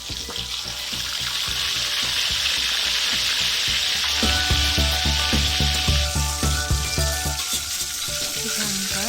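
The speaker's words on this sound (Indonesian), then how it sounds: "kita goreng ikan yang sudah dibumbui tadi sampai berwarna kecoklatan dan garing" Seasoned fish frying in hot oil until brown and crisp, a steady close sizzle running throughout, with stirring clatter and crackling bursts joining partway through.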